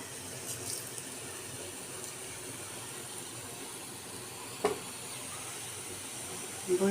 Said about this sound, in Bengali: আমি এখন আমার বুরিন্দাগুলো ভেজে নিচ্ছি।